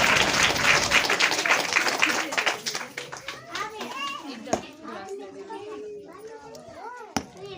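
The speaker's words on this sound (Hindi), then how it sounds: "सब लोग ताली बजा कर कहें हालेलुया" Clapping from a church congregation swells for about the first second and then breaks into scattered claps, while children's voices and chatter carry on through the rest.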